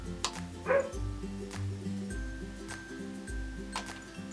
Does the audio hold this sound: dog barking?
yes